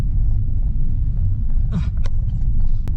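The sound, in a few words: Honda Civic Type R engine during clutchless gear shift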